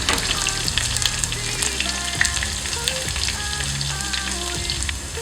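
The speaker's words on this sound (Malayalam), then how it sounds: "നന്നായിട്ട് മൂത്ത് വരട്ടെ." Chopped shallots fry in hot oil for a Kerala moru curry, giving a steady, dense sizzle and crackle that runs unbroken from start to finish, close and fairly loud.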